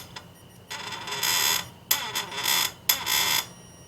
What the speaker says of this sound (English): It'll beep when it gets to the torque.